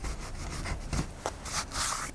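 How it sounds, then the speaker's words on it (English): A chisel scrapes and pares high spots off set resin filler on a window sill, making a continuous rough, gritty rasping with a few brighter scraping strokes toward the end, close-up with no talking. "Once the resin begins to set, I peel off the tape, then remove any high spots using a chisel."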